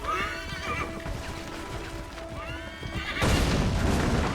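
Horse in Assassin's Creed III giving a long, wavering whinny up close, followed by a sudden loud burst of broadband noise like hooves or an impact.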